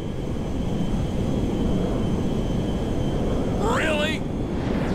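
Fighter jet roaring in Grand Theft Auto V, a steady loud engine rumble throughout with a rising whine near the end, under in-game radio talk.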